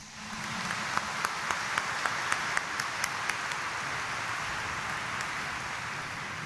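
A church congregation at a Sunday morning Mass in Quiapo applauds loudly and steadily throughout, a dense wash of many hands clapping in a large interior, with a few sharper individual claps standing out early on.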